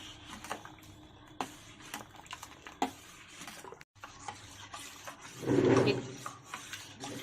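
Starter yogurt is stirred into warm milk in a pot for sweet curd, giving soft scraping and squishing strokes at close range, with a fuller swirl of stirring toward the end.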